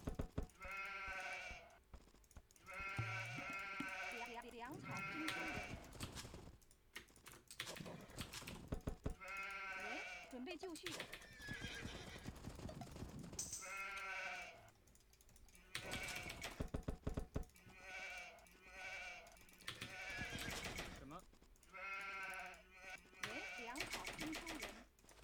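Sheep bleat again and again in a real-time strategy game during a Chinese versus Aztecs match, with short repeated calls among clicking game effects. Someone talks over them almost the whole time.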